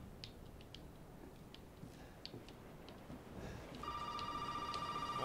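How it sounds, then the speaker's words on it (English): An old-style telephone starts ringing inside the horror video game Resident Evil 7, a steady repeated bell tone entering near the end over a dim ambient background with faint clicks. "Why is the phone ringing?"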